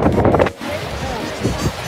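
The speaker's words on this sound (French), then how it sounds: "Il y a beaucoup de vent." Strong wind buffets the microphone in rough, roaring gusts, and a voice can be heard faintly under the noise.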